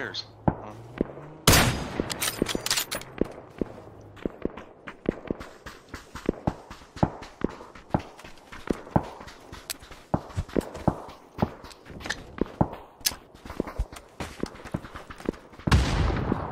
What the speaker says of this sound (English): someone's shooting at us from distant east